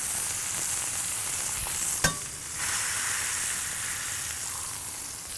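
Bacon sizzling on a grill, a continuous close, bright hiss with one sharp metallic click as a smasher presses it down, and no talking.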